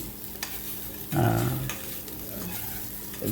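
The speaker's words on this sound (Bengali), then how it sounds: "মোটামুটি হালকা করে ভেজে নিলাম" Soft sizzling of food frying in a pan, with a brief low hum partway through and faint clinks in the background.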